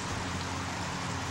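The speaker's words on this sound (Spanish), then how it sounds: "Ahora está lloviendo." Steady rain hisses down outside near a hotel pool, a dense, even patter with no voices over it.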